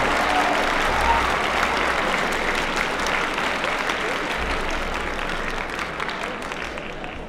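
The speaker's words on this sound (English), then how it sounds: "let's give ourselves a round of applause for being awesome" A high school crowd applauding in an auditorium, a broad, steady roar of clapping that stays loud and slowly fades over several seconds, with faint crowd noise underneath.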